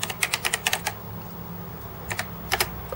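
Keys clatter on an Acorn Archimedes A440/1 computer keyboard, a quick burst of close clicky keystrokes, a pause, then a few more presses.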